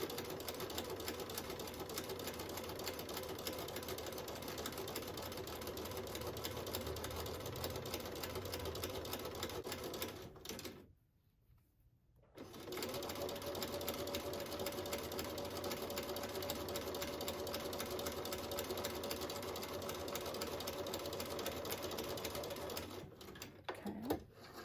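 Sewing machine hums and chatters continuously while stitching quilt pieces, a long steady run broken by a brief stop near the middle before resuming at the same even pace.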